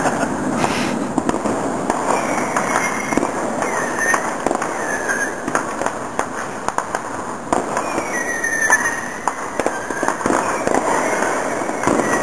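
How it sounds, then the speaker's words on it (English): July 4th fireworks and mortars going off in a dense barrage of booms, pops and crackles, some near and some distant, continuing throughout. "Right there. Fireworks, yeah."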